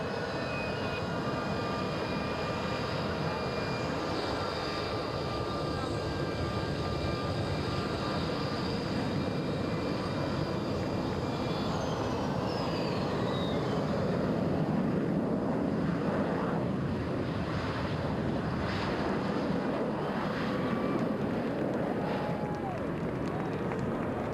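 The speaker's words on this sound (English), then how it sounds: "Captain Woodmansey has positioned his Harrier for a short takeoff" A Harrier jet at a military air show at Quonset ANGB positioned for a short takeoff, a continuous roaring jet engine with a whine, steady and loud throughout.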